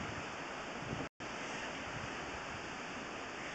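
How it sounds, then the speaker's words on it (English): Water from a kitchen sink rushes through an SDR 35 sewer line toward the city sewer, a continuous broadband wash with one brief dropout, heard alone without talk. "Got the kitchen sink flowing right now."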